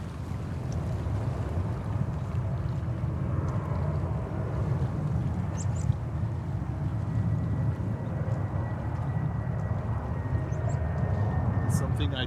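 An airplane lands at JFK Airport in New York, heard as a continuous broad roar with wind noise, steady throughout and somewhat distant.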